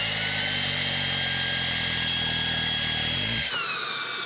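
A Maircle cordless vacuum cleaner runs steadily on its third and highest suction setting, a loud, continuous motor whine with harmonic hum, then it shuts off near the end and the pitch drops away.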